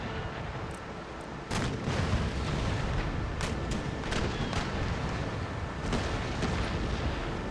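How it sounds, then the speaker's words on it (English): 12-pounder naval cannons firing from sailing ships in Empire: Total War, a string of deep booms and cracks in irregular volleys over a constant rumbling battle bed. "Those 12-pounder cannons just don't have that range."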